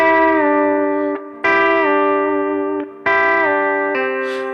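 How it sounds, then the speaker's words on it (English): Sustained electric guitar notes with a smooth downward pitch slide as each bend is released, three times, with a distorted, ringing tone. "A pre-bend is basically where I bend the note but I don't pick it"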